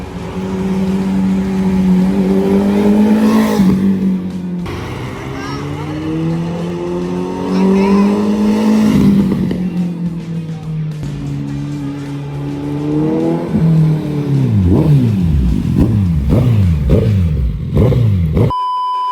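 Suzuki Hayabusa superbike fitted with an aftermarket exhaust, its engine droning loud and close, then climbing in repeated rising revs and sharp throttle blips toward the end.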